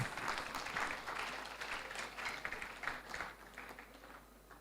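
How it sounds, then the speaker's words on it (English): An audience at an international academic conference applauds its speakers, a steady patter of clapping at moderate level that thins gradually toward the end, with no voices over it. "Let's give them all a round of applause."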